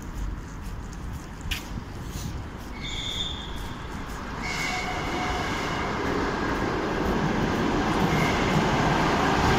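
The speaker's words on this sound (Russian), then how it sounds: "электричка пошла" A suburban electric commuter train pulls away from Paveletsky station in Moscow, its rumble and wheel noise steadily building and growing louder over the clip, with faint brief squeals on top and no talking.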